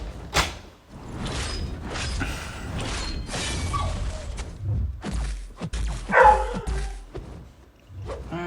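Household dogs barking and causing a commotion indoors, several loud, close barks in irregular bursts mixed with thumps and knocking, no talking.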